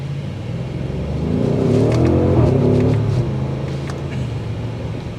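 2023 Audi SQ8 accelerating on a test drive, heard from inside as a deep, loud engine note that swells over a couple of seconds, holds, then eases slightly with steady road rumble underneath.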